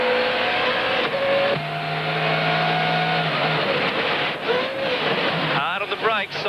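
Rally car on tarmac at the 1997 Rally Australia Langley Park super special stage, its engine revving and shifting through gears, then a sharp change of tone under braking and a slide before it accelerates again, with a voice talking over it.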